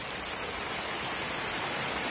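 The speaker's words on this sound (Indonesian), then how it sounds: "Tuh guys, hujan." Steady rain falling outdoors, caught on a trip home while hunting for bonsai, a dense, even hiss that holds unbroken and fairly loud throughout with no voices.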